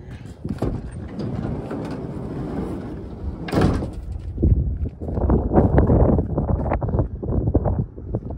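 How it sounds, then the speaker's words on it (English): Sliding side door on a 2015 Ford Transit 350 high-roof, long-wheelbase cargo van rolls open outdoors, with a sharp latch clunk midway, rumbling track noise and several knocks in a steady wind, with no talk. "Let's open the slider door here."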